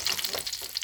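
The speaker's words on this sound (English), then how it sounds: "as it's frying, the juices on the inside are going to come up through the batter anyway" A battered chicken fried steak frying in hot oil, giving a steady bright crackling sizzle with small popping bursts, close and continuous without any voices.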